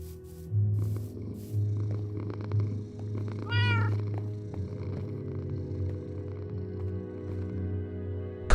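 Cat purring steadily and close, with a single drawn-out meow rising over the rumbling purr partway through, and no voices.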